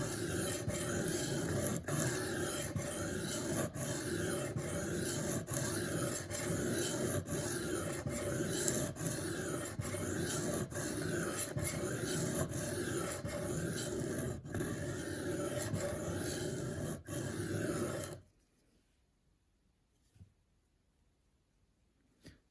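A knife blade being sharpened on a Work Sharp guided sharpening system, with steady, repeated rasping strokes at an even rhythm, close and fairly loud, ending abruptly into near silence.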